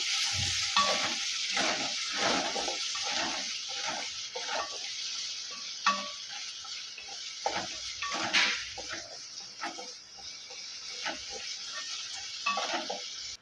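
Soya chunks with a green chilli and a little salt sautéing in a pan, soft sizzling broken by repeated scraping stirs and light clinks of a spoon against metal, close and without voices.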